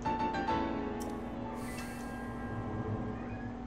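A cat meows loudly in The Legend of Zelda: Breath of the Wild on Nintendo Switch, a drawn-out wavering cry sustained for several seconds close up, with no talk over it.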